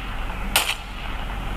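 A single sharp video game gunshot crack, heard through iSuper full-size headphones, stands out briefly against a low, steady background hum.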